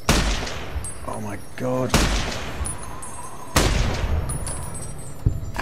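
Armor-piercing rounds fired in a modded Fallout New Vegas fight: two or three loud, sharp bursts of gunfire with ringing tails, and a voice exclaims between the shots.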